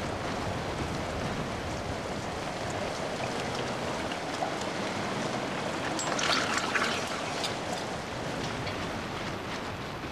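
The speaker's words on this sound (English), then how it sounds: "Quite apart from the relentless rain" Relentless heavy rain pouring down in a steady, dense hiss, unbroken and close, with a brief swell of louder splashing partway through.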